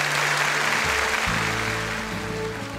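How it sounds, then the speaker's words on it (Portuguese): A church congregation applauds at a televised Catholic evangelization gathering, steady clapping filling the space for a few seconds under sustained tonal hum before fading slightly. "uma salva de palmas"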